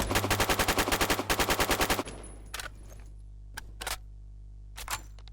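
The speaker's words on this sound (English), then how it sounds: "The reload also sounds cool." Rapid automatic gunfire for about two seconds, then a series of sharp mechanical clicks and clacks as a designated marksman rifle with a 20-round magazine is reloaded in Phantom Forces.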